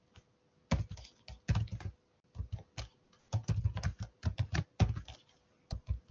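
Fingers tap a computer keyboard in bursts of close, clicky keystrokes separated by short pauses, with no talking over them.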